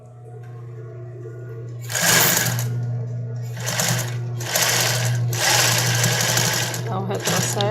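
Sewing machine running zigzag stitches on a baby doll garment, loud bursts of rapid stitching separated by short pauses over a steady motor hum, with a voice speaking between runs.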